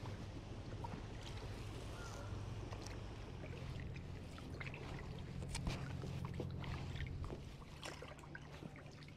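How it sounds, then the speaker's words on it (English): A boat is paddled through shaded water at Caladesi Island State Park in Dunedin, Florida, with soft, steady splashing and trickling under a constant wash of wind and ambient noise, and no clear strokes standing out. "time to do some paddling"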